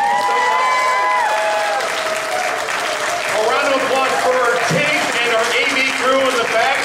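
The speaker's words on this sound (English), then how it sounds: "I'd like a round of applause for our amazing contestants up here." Applause and cheering from a convention crowd for game-show contestants on stage at a furry convention, loud and continuous, with whoops and voices mixed into the clapping.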